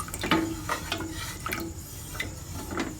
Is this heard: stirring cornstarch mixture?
yes